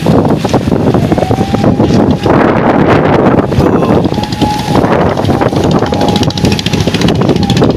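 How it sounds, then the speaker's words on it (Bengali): Strong storm wind by the river at Chandpur roars continuously and loudly into the microphone, buffeting and gusting with rushing noise throughout, with no pauses. "বাতাস ধীরে ধীরে কমতে কমতির দিকে যাচ্ছে"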